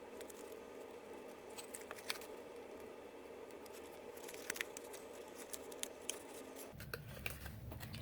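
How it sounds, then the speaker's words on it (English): Scissors snip and trim a small piece of paper for a 3D star ornament, giving faint, close, scattered cutting and rustling sounds in a quiet room. "I'm just going to trim up this little piece there."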